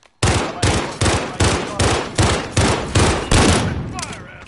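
Rapid bursts of automatic gunfire in Call of Duty Modern Warfare, about eight loud, close volleys in steady succession, each sharp crack followed by a brief decay, with a faint voice underneath.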